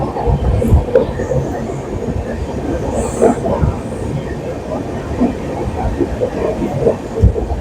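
Jammu Tawi Express passenger train running after leaving Kulti station, its carriages rumbling steadily with rhythmic wheel clatter over the rails, loud and continuous throughout from on board.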